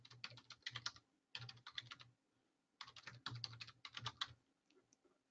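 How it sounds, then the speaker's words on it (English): Someone types on a computer keyboard in two bursts of quick, clicky keystrokes with a short pause between, close and clear with no talking. "Let me type in my email for you, Pam."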